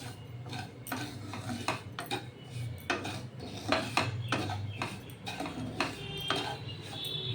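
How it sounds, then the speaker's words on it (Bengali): Metal spatula scraping and clinking against a pan as half a cup of semolina roasts in a little ghee, with repeated rhythmic strokes close by and no talking. "আর এর মধ্যে দিয়ে দিলাম হাফ কাপ সুজি সুজিটা একটু ভাজা ভাজা হবে"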